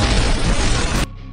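A grenade shot out of the air and exploding in a live-action action film, one loud, dense blast roaring for about a second before cutting abruptly to a quiet low hum.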